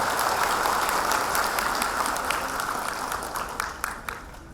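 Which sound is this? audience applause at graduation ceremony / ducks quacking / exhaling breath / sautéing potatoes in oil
audience applause at graduation ceremony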